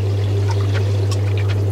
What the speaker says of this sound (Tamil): அதுக்குள்ளேயே உளுந்த போடுறேன்.